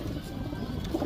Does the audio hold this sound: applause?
no